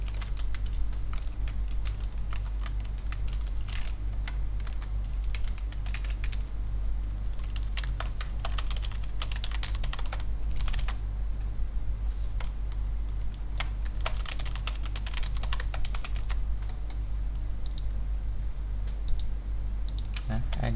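Computer keyboard being tapped to enter a password, irregular clusters of light clicking keystrokes over a steady low electrical hum, fairly close and continuing throughout.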